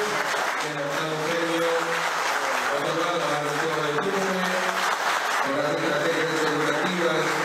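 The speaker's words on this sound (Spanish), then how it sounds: "Estos aplausos son para el Museo de Túcume en Lambayeque." Steady applause fills an award ceremony, a dense patter of clapping from a crowd held throughout, with a voice speaking over it.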